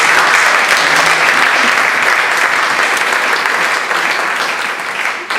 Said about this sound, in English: let's give a round of applause for them